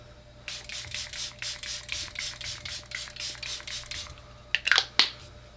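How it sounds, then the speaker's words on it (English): A makeup setting spray bottle mists in a quick series of short, evenly spaced bursts, followed by a few louder, sharper sprays close by. "I'm going to do a test spray"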